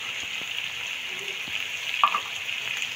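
Meat fries with salt, garam masala and dried coriander in a pan, producing a steady, moderately loud hiss with a few light clicks and one brief stirring clatter, no voices.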